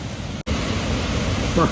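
Loud, constant rush of river water at a waterfall at Hogenakkal, a dense roar with a brief dropout early on.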